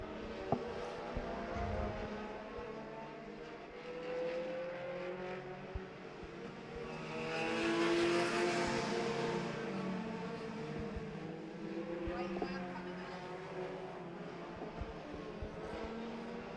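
Race cars lapping Agassiz Speedway on the Fourth of July, engines droning steadily at a distance with a swelling pass midway as the field roars by, then easing back to a constant hum.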